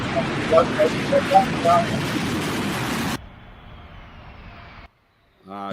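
A Hawker Siddeley Trident airliner at Heathrow Airport, a loud roaring jet engine rumble with background chatter over it, then a sudden cut to a quieter hum and a brief silence.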